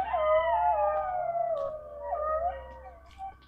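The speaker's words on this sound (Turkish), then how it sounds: "Kurt ve çakal sesleri." Wolves and jackals howl together in overlapping, wavering calls that slide and bend over several seconds, at moderate distance with no talking.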